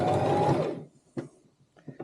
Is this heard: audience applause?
no